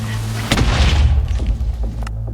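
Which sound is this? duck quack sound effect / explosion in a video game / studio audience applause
explosion in a video game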